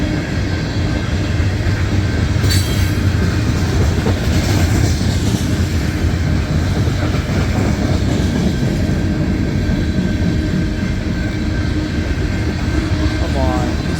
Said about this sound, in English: Coal hoppers.